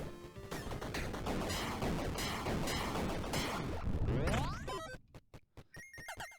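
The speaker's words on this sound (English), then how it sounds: "Meteor shower took him out." Meteor shower impacts in the video game Tiny Rogues crash in a loud, dense barrage of overlapping smashes and blasts, ending in a few sharp separate hits.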